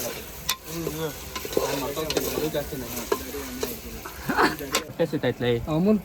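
Onions frying with salt in a pan give a steady sizzle with occasional stirring scrapes, running continuously beneath lively nearby talk.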